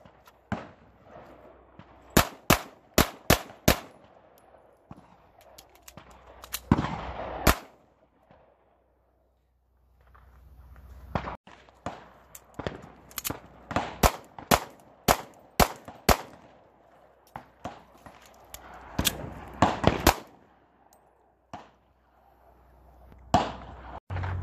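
Airsoft guns fire in rapid bursts of sharp cracks and single pops at an outdoor game, loud and close, with a quiet pause midway before more volleys.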